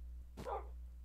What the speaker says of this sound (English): Hey, I don't have any bones. Sorry, dog.